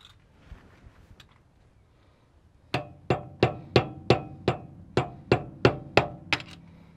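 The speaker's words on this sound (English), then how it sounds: "Might need to get a screwdriver in behind it." A screwdriver is worked in behind the seal of a Toyota Hilux steering knuckle. After a quiet start, about eleven sharp metallic knocks follow in a steady, evenly spaced rhythm, close and loud.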